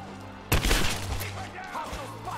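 Enemy gunfire in the PC game Rise of the Tomb Raider: a sudden burst of shots that fades into a short rattle, with a player talking over it.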